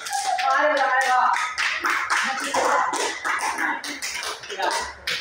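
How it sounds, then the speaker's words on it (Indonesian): Students in a classroom clap for a small group, a fairly close burst of individual hand claps that starts strong and tapers unevenly, with voices talking over it. "Tepuk tangan untuk kelompok 4 dulu"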